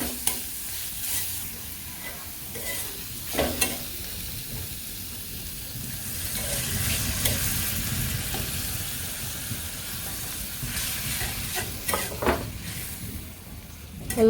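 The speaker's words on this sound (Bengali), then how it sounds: "এটা ভালো করে মশলাটা কষে নেই" Spice masala with fried onion sautéed in a pan, with constant close sizzling and the clatter of a spoon stirring and scraping throughout.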